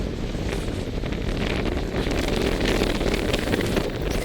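Strong wind buffets the microphone on the Berck beach trail, a continuous rough roar of gusting noise with no speech.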